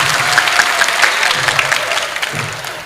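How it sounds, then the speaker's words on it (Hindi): An audience claps together at a Hindi comedy poetry recital, a loud, steady, dense burst of applause that carries on throughout with slight swells and no talk over it. "ताली बजे तो एक साथ बजे"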